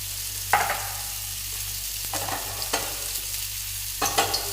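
Green peppercorn spice paste for mackerel pollichathu stirs and fries in hot oil in a pan. Scattered spoon scrapes sit over a low, steady hum with a faint sizzle, and no one speaks.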